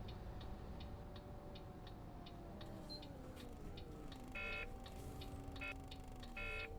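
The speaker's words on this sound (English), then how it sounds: "it sounds like the handbrake alarm" Handbrake alarm on a Volvo B7RLE bus in the bus simulator OMSI 2, a faint, evenly spaced series of short beeps that repeats over a low, steady engine hum.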